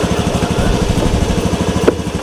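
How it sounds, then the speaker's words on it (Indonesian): A small motorcycle engine idles close by in a steady, even putter throughout, with a brief sharp click near the end. "Halus jang, motor tuh halus."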